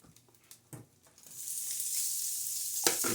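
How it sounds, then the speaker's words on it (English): Ingredients tipped into a hot pan burst into a loud, steady sizzle after about a second and a half of quieter clatter, with a sharp clink near the end and no talking. "I'm going to add the rest of the stuff to the pan before the whole pan explodes"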